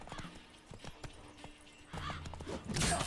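Horse hooves in The Witcher III during mounted combat, a brisk clip-clop of repeated hoofbeats with game effects and a louder burst of action near the end.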